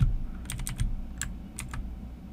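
Someone types on a computer keyboard, with a few quick bursts of sharp clicking keystrokes separated by short pauses, close and fairly clear over a low background hum.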